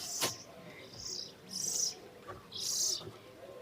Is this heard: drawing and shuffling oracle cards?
no